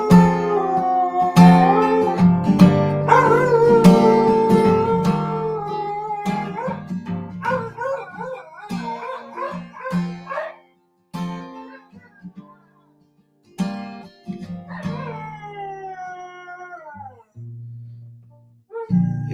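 A dog howls and yips along with a person singing, its long wavering cries rising and falling over the melody before breaking off into shorter whimpering notes near the end.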